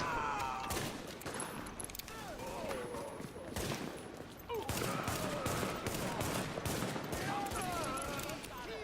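Rapid gunfire in The Division, bursts of automatic shots cracking in dense volleys throughout, fairly quiet overall, with speech mixed in.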